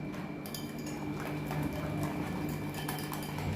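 A spoon beats raw-mango jalebi batter with curd and rice flour in a bowl, making quick repeated clicks and taps against the bowl over a steady background hum.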